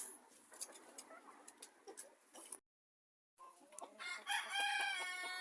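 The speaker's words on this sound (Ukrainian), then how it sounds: "Мої курочки карликовий кукінхін фрізлі." Frizzle Cochin bantam hens cluck and a rooster crows in a backyard coop, with scattered close clucks, a brief break, then a loud drawn-out crow near the end.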